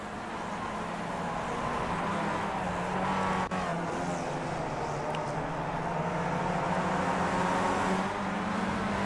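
A Skip Barber race car engine drones steadily at Circuit Gilles Villeneuve, a continuous moderately loud tone that holds and slowly rises, with no speech.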